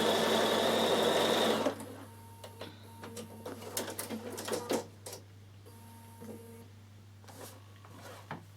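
A Bernina sewing machine stitches a quilt piece, a loud, steady run of rapid stitching for under two seconds that stops abruptly, followed by quieter clicks and handling sounds over a constant low hum.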